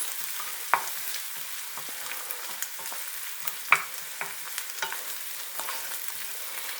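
Peppers sizzling in butter in a pan, a soft crackling fry broken by sharp spatula scrapes and taps at irregular intervals, close and clear with no talking.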